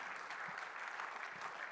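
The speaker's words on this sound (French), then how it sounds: "on vous applaudit bien fort" Applause from an audience at an award ceremony, a brief steady burst of many hands clapping at moderate distance.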